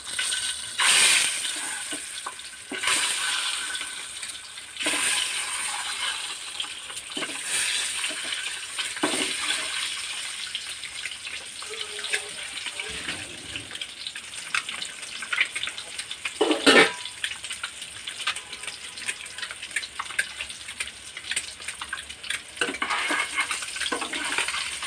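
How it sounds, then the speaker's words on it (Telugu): Eggs frying in hot oil with turmeric, a steady faint sizzle and crackle with occasional louder pops and stirring clatter over about twenty-five seconds. "స్టిక్ అవ్వకుండా కొంచెం కదుపుతూ ఉంటే చక్కగా అన్ని వైపులా మనకి బాగా ఫ్రై అవుతాయి అన్నమాట."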